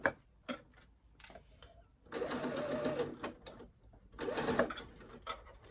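A sewing machine stitches the bodice of a self-drafted sundress in two steady bursts, with quiet clicks and handling noises of fabric being fed under the needle between runs.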